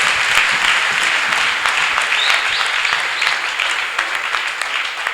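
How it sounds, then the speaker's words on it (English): A church congregation claps hands for Jesus during a testimony service, a dense, continuous round of clapping that holds steady at moderate loudness without speech. "Let us clap hands for Jesus."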